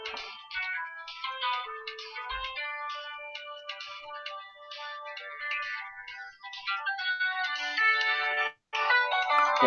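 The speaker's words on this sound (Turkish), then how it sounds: "telefonu sessize almadım." A mobile phone ringtone plays a steady melodic tune of repeated tones, loud and close, going on for nearly ten seconds with one brief cut near the end, no talk over it.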